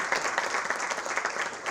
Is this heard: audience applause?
yes